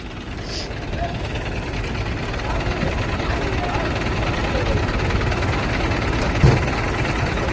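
A truck loaded with machinery runs its engine as it moves off, a steady low rumble with a broad, noisy hum building slightly over several seconds.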